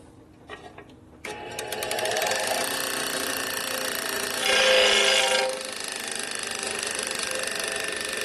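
Grinding wheel dressing the worn contact surface of a rocker arm from a 1977 Harley-Davidson XL Sportster Ironhead 1000cc engine: a steady high whirring grind that starts after a second, runs continuously and swells louder briefly midway, heard alone.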